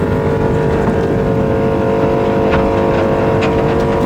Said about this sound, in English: our motor gives us the same sort of issues. But we do get it started. And we're off.